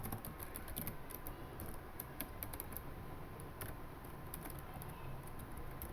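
Faint, steady tapping of keys on a computer keyboard, a continuous run of soft clicks without pauses, heard quietly close by with no talking over it.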